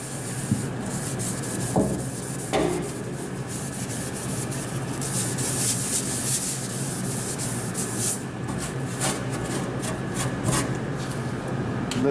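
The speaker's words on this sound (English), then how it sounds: "some of the stubborn stains can be taken with one of these green 3M pads" Scrubbing the inside of a Turbochef Tornado oven with a green 3M pad, a steady close abrasive rubbing with irregular strokes and occasional knocks, alone without talk.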